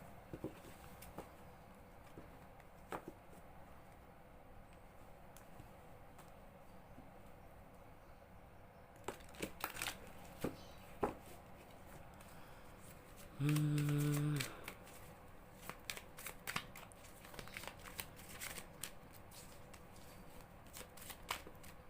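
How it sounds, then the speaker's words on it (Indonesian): A deck of cards is shuffled by hand for a card-reading session, with soft riffling bursts and crisp flicks over quiet room noise and a short steady tone partway through; no one speaks. "Langsung saja Clarissa menshuffle kartunya dulu ya."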